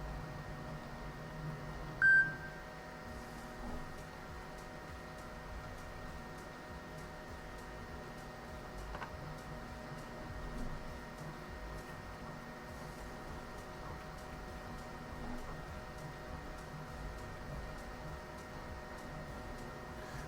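3D printer running quietly with a steady low mechanical hum and faint whirring, plus one short, clear beep near the start; indoors, no talking.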